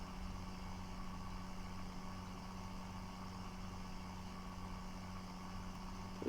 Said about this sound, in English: It's a noisy wee tractor.